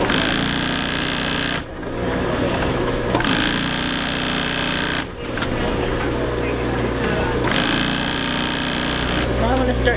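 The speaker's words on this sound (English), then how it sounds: "Now I just sew the pocket onto the bottom of the side." A sewing machine stitches a pocket onto a canvas Duluth Pack, running steadily and loudly in long sustained stretches broken by two short pauses, with faint voices in the background.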